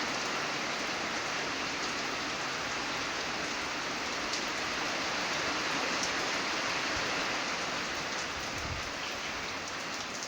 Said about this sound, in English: Definitely see the raindrops hitting the concrete out there.